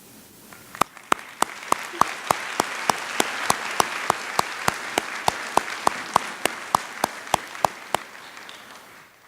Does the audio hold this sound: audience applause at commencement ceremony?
yes